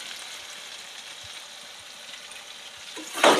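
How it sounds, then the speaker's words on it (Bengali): Pointed gourd pieces fry with salt and turmeric in a pan over a village cooking fire, giving a steady close sizzle that swells into a louder, brighter burst of frying at the end. "এবার এদিকে পটলটা আমার ভাজা হচ্ছে।"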